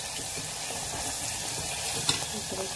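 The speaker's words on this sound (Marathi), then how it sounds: "टोमॅटो आलं लसूण त्याला आपण चव आणायची. हे भाजते चांगलं, हे फ्राय व्हायला लागले." Tomato, ginger and garlic paste fry in a hot pan for a spicy Kolhapuri misal, giving a steady close sizzle with light stirring scrapes and one sharp clink near the end.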